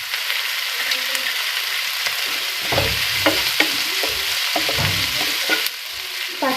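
Sliced ginger and garlic sizzle and fry in a hot pan with a steady loud hiss, while a utensil scrapes and stirs in irregular knocks close by.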